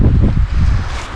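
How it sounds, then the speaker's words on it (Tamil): Strong wind gusts in an outdoor forest location, loud, rushing and close, buffeting steadily with no voices. "நான் கூட தண்ணி விழுகிற சவுண்டா அப்படின்னு நினச்சி போய் ஃபால்ஸ் ஏதாவது இருக்குமா அப்படின்னு பார்த்தா ஃபால்ஸ் கிடையாது, ஜஸ்ட் காற்று வர்ற சவுண்டு தான்."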